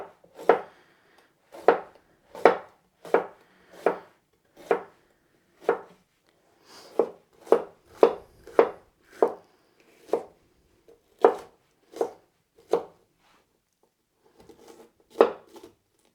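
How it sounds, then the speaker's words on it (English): Knife chopping a red vegetable into small cubes on a cutting board, a steady series of crisp, close strokes at roughly half-second intervals with short pauses between runs. "Turn 90 degrees and cut them into little cubes."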